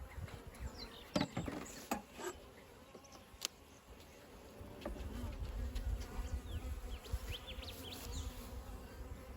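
Honey bees hum loud and steady during a hive inspection over a frame thick with drones, with scattered knocks and clicks from handling the woodenware and no talking.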